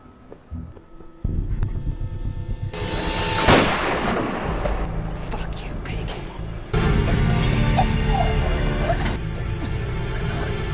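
Gunfire in a movie scene where a hooded man walks up to a female officer on a street and opens fire, heard as loud bursts and booms layered with dramatic music and effects, with no clear speech.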